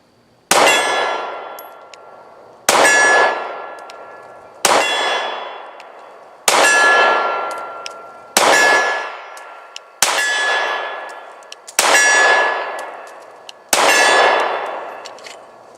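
Eight 9mm shots from a Smith and Wesson M&P Shield 2.0 ring off steel targets, each a loud, sharp metallic clang that decays over about two seconds, spaced at an even, unhurried pace.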